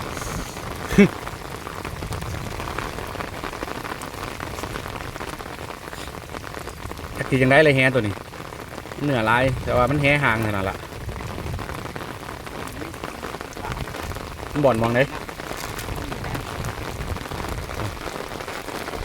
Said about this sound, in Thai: ฝนตกพี่น้องเลย